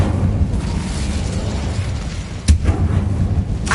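An Incendio spell bursting in the Hogwarts Legacy video game, a loud close fiery whoosh and roar followed by a sharp blast around two-thirds of the way through, with no voices.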